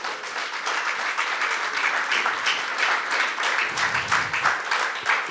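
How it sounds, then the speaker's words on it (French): Audience applause fills a church service, a steady, loud wash of many hands clapping continuously throughout with no pauses. "Alléluia, on peut l'applaudir."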